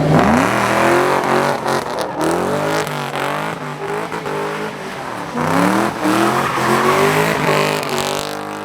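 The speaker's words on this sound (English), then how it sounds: "I was trying to do a donut, and if you notice it just did this wide donut" A drift car revs hard and spins a wheel while attempting a wide donut, its engine rising and falling in repeated loud close pulls with tire squeal, with no talking.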